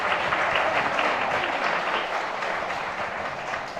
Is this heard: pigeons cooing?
no